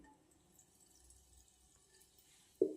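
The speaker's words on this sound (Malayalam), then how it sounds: "കുറച്ച് വെളിച്ചെണ്ണ ഒഴിക്കാം." Coconut oil poured into a pressure cooker set on a stove, giving a brief sudden sizzle right at the end after near silence.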